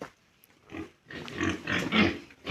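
Pigs on an organic pig farm, including a sow and several piglets, grunt and snort at close range in irregular bursts that grow louder and denser toward the end.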